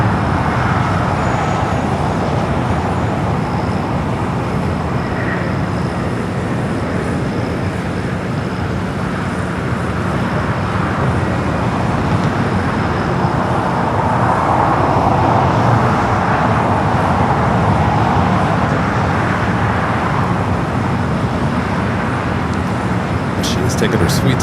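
A DHL Boeing 777 freighter at LAX taxiing toward a south side takeoff, a steady broad jet engine roar that swells slightly midway and stays constant, with airport background noise.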